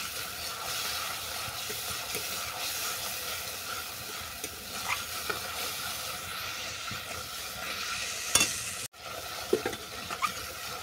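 Spice masala sautéing in oil in a pan for a vegetarian banana-flower dhoka curry with curd and poppy seed, a steady close sizzle with scraping stirs and occasional sharper clinks, no talking.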